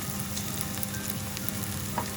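Onion and garlic fry in a pan for bitter gourd con carne, giving a soft, steady sizzle with faint crackles throughout a short stretch.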